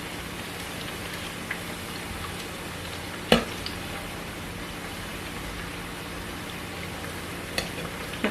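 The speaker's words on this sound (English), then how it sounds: "The plantain is nearly ready now. So I'll continue to just stir this one properly." Plantain pieces fry in a pan with a steady soft sizzle, broken by a sharp scrape of stirring midway and a lighter one near the end, at moderate volume with no talk.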